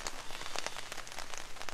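Steady rain falls outdoors, a dense close patter of drops striking surfaces that continues evenly throughout, with no voices.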